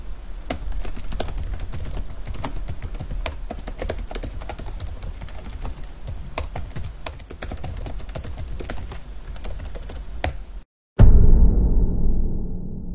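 Fast, continuous typing on the keyboard of a Hyperbook SL504 gaming laptop, dense close-up key clatter for about ten seconds, then a sudden cut to a brief dull low rumble.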